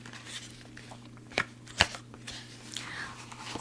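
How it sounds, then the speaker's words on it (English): Tarot cards riffled in a quiet room, a soft papery hiss with two sharp, close snaps of shuffling in the middle, then lighter rustling. "So I'm going to shuffle for you."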